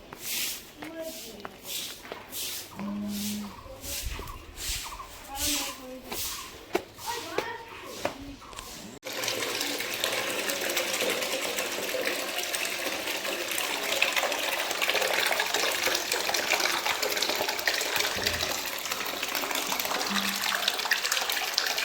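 Bucketfuls of water are poured over a bicycle being washed, a long steady gushing splash that follows a stretch of rhythmic scrubbing and people talking, continuing loud and unbroken to the end.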